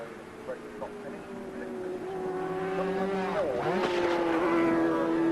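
Supersport 400 racing motorcycles at Donington Park in the 1991 Shell Oils ACU Supercup howl with sustained engine whines that rise and sweep past around the middle, heard under a speaking commentator.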